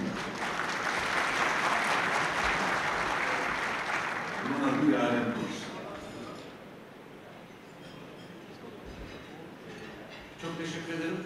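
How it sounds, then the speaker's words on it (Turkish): An audience at a Çankırı federations gathering gives warm, loud applause for about five seconds. The clapping then fades and a voice begins speaking over quieter room noise. "Bir alkış alabilir miyim efendim?"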